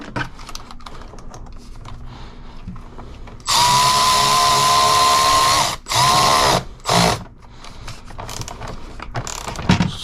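A power tool whirs and ratchets in loud bursts while tightening a clamp on a radiator fan assembly for a Dodge Charger, Challenger or Chrysler 300: one long run, then two short pulses, with quieter workshop handling around them.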